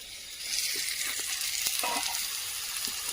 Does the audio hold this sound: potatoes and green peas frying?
yes